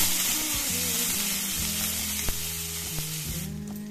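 Dry chillies, black cumin and crushed garlic sizzle in hot oil in a pan, a steady bright frying hiss with a few soft clinks of stirring and no voices.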